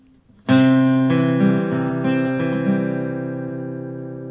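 Fingerpicked guitar notes ring out one after another over a sustained chord, played alone, close and clear, fading slowly at the end.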